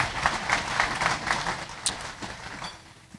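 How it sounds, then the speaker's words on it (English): Audience applause at the 2019 Fresno Athletic Hall of Fame event, a crowd clapping in a large hall, moderately loud and rhythmic at first, then thinning out toward the end. "You can clap"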